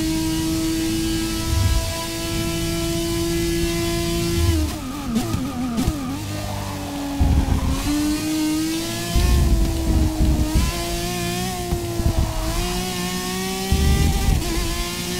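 An Aston Martin DBR9 GT race car's engine drones in a racing video game, holding a steady high whine that dips and rises through gear changes and braking, with brief bursts of tyre and kerb noise.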